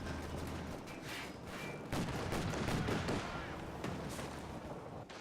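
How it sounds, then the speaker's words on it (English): In Company of Heroes 2, bazookas fire on a Panzer II amid bursts of gunfire and thumping impacts, with steady battle noise throughout and a denser volley in the middle. "The bazookas are engaging the Panzer II."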